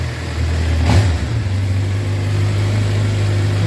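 A Suzuki GSXR750 motorcycle engine runs steadily at a close, loud idle with a low droning hum, a brief rise in revs near the start, then a constant even tone.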